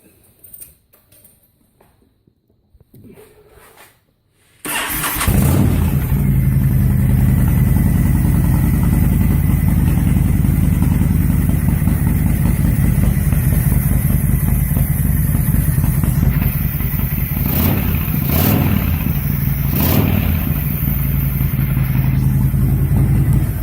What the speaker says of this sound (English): Let me fire it up real quick.